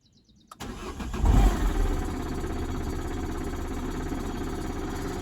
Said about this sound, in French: Donc, sans surprise, on a toujours le bruit. Par contre, au niveau du démarrage, voilà, même le départ à froid qui se met.